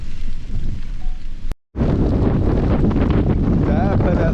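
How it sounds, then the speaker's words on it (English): Strong wind buffeting the microphone on a beach during Tropical Storm Henri, a loud continuous roar that cuts out briefly, then returns with gusting rumble and faint surf beneath. "Definitely a lot windier here. I mean, this is the brunt of it."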